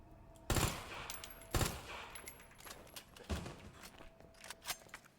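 Magnum shots in the video game Resident Evil 2 Remake, two loud, sharp booming blasts about a second apart, followed by a fainter third shot and quieter game clatter.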